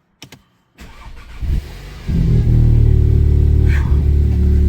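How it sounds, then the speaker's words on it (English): A car engine with a newly replaced intake manifold cranks briefly after a few clicks, catches, and settles into a loud, steady idle, heard up close. "Start and idle."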